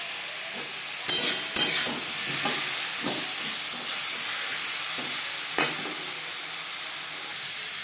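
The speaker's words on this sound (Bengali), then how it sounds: "কড়াইতে দিয়ে দিয়েছি খুবই সামান্য পরিমাণে রিফাইন্ড অয়েল তেলে আমি হালকা করে ভেজে নেব" Base for a raw mango jelly chutney frying lightly in a little refined oil in a kadai, a steady hiss and sizzle with several sharp spoon clinks against the pan, close and without speech.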